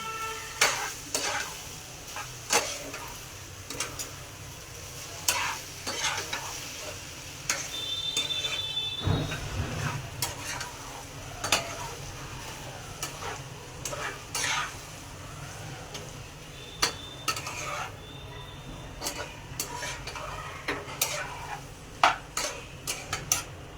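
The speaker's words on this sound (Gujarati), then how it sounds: "હવે તેને હલાવી લઈશું." Rice for Hyderabadi pulao being stirred in a pan, with repeated scraping and clinking of a spoon against the metal at an uneven rhythm over a low background hum.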